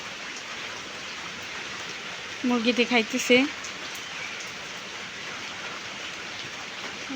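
Steady, even rain falling at the start of the monsoon, a continuous hiss that runs the whole way through, with a short burst of speech partway in.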